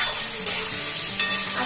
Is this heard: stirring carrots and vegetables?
yes